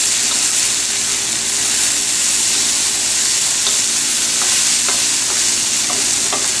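A vegan stir-fry sizzles steadily in a wok, a dense, continuous frying hiss with occasional faint clicks of stirring, close and fairly loud with no talking.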